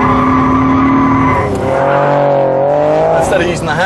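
Car driven hard through a tight turn with its rear end kicked out, a loud near tyre squeal sliding in pitch over a strained engine note, with a voice speaking over it.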